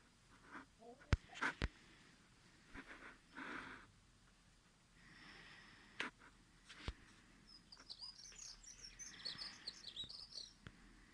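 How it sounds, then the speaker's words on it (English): Faint bird chirps and tweets in the distance, scattered through the clip among soft rustles, breaths and occasional clicks. "Some other singing birds, but when she sings, she has a most beautiful song."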